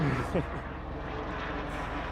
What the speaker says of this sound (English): we got a helicopter going overhead